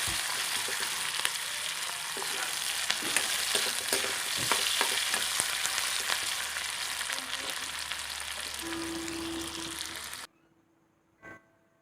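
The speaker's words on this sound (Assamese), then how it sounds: "পিঁয়াজখিনি অকণমান ৰঙচুৱা হোৱালৈকে ভাজি ল'ম" Dense sizzling of onions frying in hot oil with occasional stirring scrapes, loud and continuous, then it cuts off abruptly near the end.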